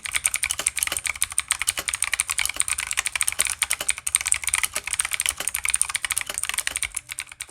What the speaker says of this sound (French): voici le test audio du clavier gamer le moins cher de Temu